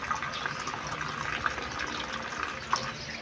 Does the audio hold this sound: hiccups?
no